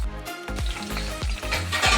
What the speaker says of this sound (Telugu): యాడ్ చేసి ఒకసారి మిక్స్ చేయండి.